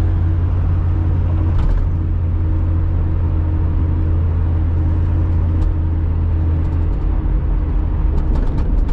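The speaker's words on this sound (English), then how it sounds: "I always like driving over this bridge." Steady, loud low rumble of a car driving across the Piemonte Bridge in fog, with constant road and engine drone and a brief bump near the start.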